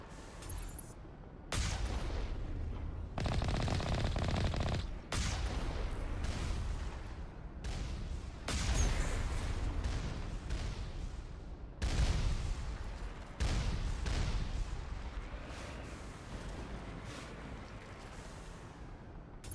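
A turret in Mass Effect's Asteroid X57 mission sprays gunfire in long, loud, sustained bursts broken by short pauses, with a dense crackle of shots and blasts throughout.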